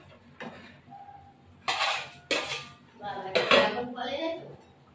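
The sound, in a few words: covering the cooking pot with a lid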